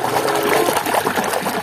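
Ultraman toy figures being washed in water, a continuous close splashing and trickling wash with constant loudness throughout.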